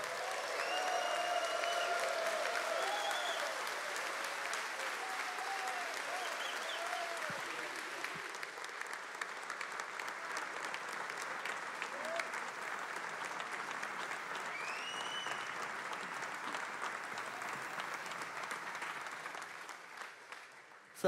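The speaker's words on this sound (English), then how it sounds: "stand up and give a round of applause as we introduce and bring forth Pastor John Gray" A church congregation stands and applauds to welcome Pastor John Gray, steady sustained clapping with cheers and voices calling out over it, continuing throughout before trailing off.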